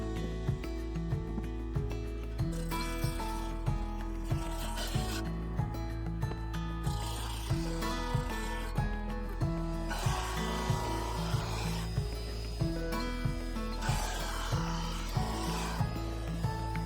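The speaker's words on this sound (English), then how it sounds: "once released from the casting mould, it too needed to be passed through the drum sander to level each side" Drum sander levelling a cast resin infill piece for a segmented woodturning bowl, a steady rubbing, rasping grind with a regular pulsing hum underneath, close and continuous, no voices.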